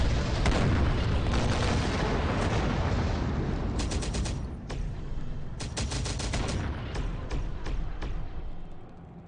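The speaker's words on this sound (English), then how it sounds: "Is that a mortar unit there?" Mortar and artillery fire in the Broken Arrow real-time strategy game, a dense barrage of booming blasts overlapping with bursts of rapid gunfire, loud and continuous.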